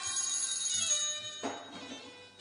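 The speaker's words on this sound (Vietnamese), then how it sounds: "có điện thoại kìa" A telephone rings indoors during a Vietnamese cai luong stage drama, a short electronic tone that is fairly faint and ends abruptly after about a second and a half.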